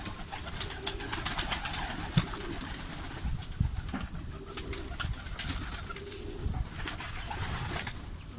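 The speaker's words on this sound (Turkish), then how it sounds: "Maşallah ama da kuş çoğalmış ha." Domestic pigeons coo repeatedly in a low, rolling rhythm amid a busy flock, with scattered wing flaps and scuffling around them.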